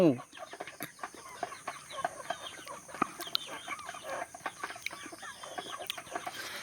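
Chickens cluck and chatter close by at night under a light put out to draw insects for them to eat, with busy overlapping clucks and occasional louder calls.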